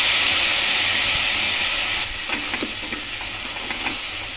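Tomato puree poured onto cashews frying in hot oil for a dhaba-style tomato cashew curry, giving a loud steady hiss that drops and settles into a softer sizzle with small crackles partway through.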